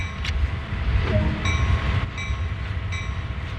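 A locomotive in Train Sim World 2 rolls along with a steady low rumble and rail noise, with faint periodic clicks of wheels over track joints throughout.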